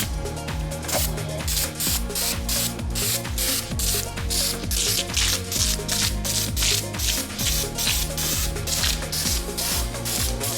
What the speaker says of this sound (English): Bought 2 cans of degreaser, so we're just gonna soak it down